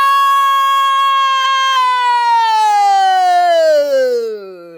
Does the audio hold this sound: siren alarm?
yes